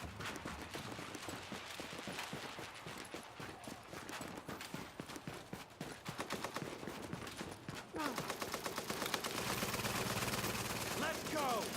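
An automated turret fires in The Division video game: continuous rapid gunfire that grows denser and louder toward the end, with faint voices underneath.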